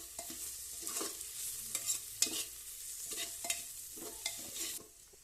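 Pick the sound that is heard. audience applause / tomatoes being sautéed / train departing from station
tomatoes being sautéed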